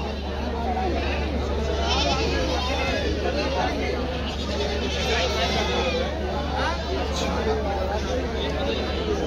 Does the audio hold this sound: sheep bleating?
yes